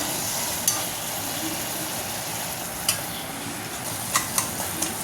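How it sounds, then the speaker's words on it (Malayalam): Banana halva with grated coconut being stirred and cooked down in a pan, a steady soft sizzle and scraping throughout with a few brief sharper clinks of the spoon against the pan, close and alone. "എന്നിട്ട് അതിൽ തന്നെ കിടന്ന് നന്നായിട്ട് വരട്ടിയെടുക്കുക"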